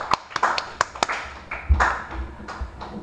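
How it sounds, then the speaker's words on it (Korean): A small group of people clap briefly in a classroom during a technical drawing lesson on shaft dimensioning, giving a few scattered, uneven claps that start and stop irregularly over a few seconds. "요거는 박수 쳐줄게요"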